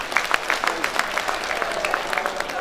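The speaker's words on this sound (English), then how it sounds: "Let's give them a round of applause." Audience applause at a builders' conference AGM opening ceremony, a steady dense patter of many hands clapping throughout, moderately loud with a few sharper claps standing out.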